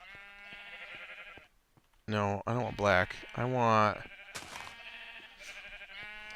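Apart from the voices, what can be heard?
sheep bleating in Minecraft video game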